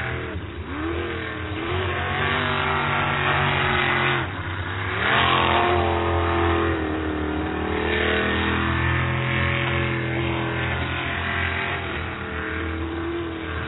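Sprint racing boat engine running rough, a loud, continuous roar that swells and dips as it revs, heard near and alone for over ten seconds.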